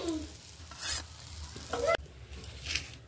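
Eggplant slices dry-frying in a pan without oil, a soft sizzle with brief stirring and scraping sounds, a sharper hiss near the middle, all fairly quiet with no talking.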